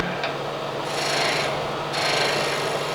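A bowl gouge makes a pull cut on a wooden spindle turning on a lathe, a steady close rasping shear that swells in two longer passes over a constant low motor hum.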